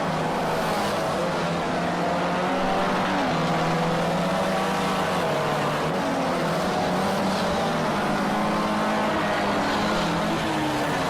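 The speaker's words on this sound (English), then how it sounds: "Will Scholl be able to get the exit, get into that slipstream and make a move going into Flexo Pass?" Formula C race cars in sim racing roar continuously with loud, layered engine whine and shifting revs throughout, with no voices heard.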